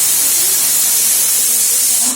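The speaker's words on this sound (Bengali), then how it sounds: "আর এই প্রেশার কুকারে, বড় প্রেশার কুকারটা, মিঠি ভাত বসিয়েছি আর এদিকে আমার ভাত বসিয়েছি।" A large pressure cooker of rice lets off a loud, steady hiss of escaping steam that holds unbroken for about two seconds before easing slightly at the end.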